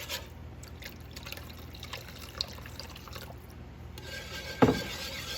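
Water pours and trickles steadily into a cooking pot, growing fuller near the end, with a single brief clunk just before it stops.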